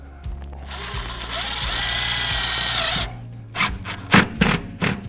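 A power drill drives screws into the bottom lip of metal soffit panels, a steady whirring run for about three seconds followed by several short, sharp bursts as each screw seats.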